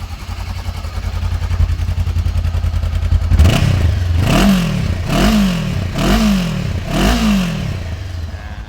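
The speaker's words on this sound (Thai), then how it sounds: "มาฟังเสียงเครื่องยนต์ครับผม" A 2018 Honda CB500X motorcycle engine idles with a steady chugging rumble, then is revved four times in a row, each rev rising and falling back, close by.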